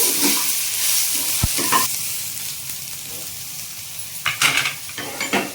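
Turmeric and coriander powder fry in oil while a spoon stirs the pan, giving a soft steady sizzle broken by a sharp utensil tap early on and a cluster of scraping clinks near the end.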